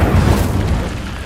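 An Incendio fire spell goes off in a video game as a single loud, close whooshing boom that bursts at once and then fades quickly.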